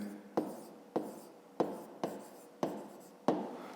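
A pen scratches across paper in short separate strokes, six or so quick scribbles each starting with a sharp scrape and trailing off, faint and close, with no talking.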